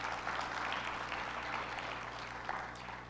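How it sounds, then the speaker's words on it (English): A crowd at a community meeting on violence in Winston-Salem, North Carolina claps in a faint, distant, even patter lasting a few seconds over a low room hum. "Let's give them a round of applause."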